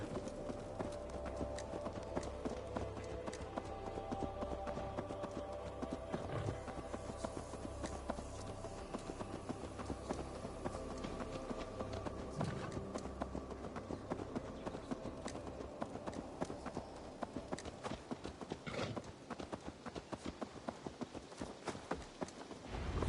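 Horse hooves clip-clop steadily in Assassin's Creed Valhalla, a continuous rhythmic trot heard close under a dense bed of game music and ambience throughout.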